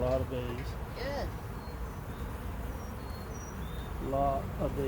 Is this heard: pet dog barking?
no